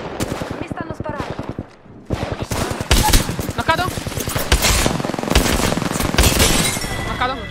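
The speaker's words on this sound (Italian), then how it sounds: "Mi stanno sparando." Apex Legends gunfire, rapid bursts of automatic weapons rattling loud and close in dense volleys with a brief pause, continuing almost unbroken as a voice talks over the shooting.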